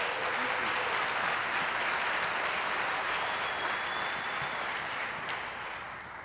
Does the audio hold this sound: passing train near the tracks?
no